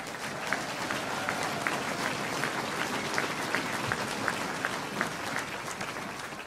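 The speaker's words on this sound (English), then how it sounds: "a big round of applause." A closing plenary audience at the 2014 National Main Streets Conference claps steadily, a dense, even round of applause from a large crowd that holds throughout.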